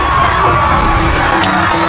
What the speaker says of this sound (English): he was using the screams below to drown out the explosion across the way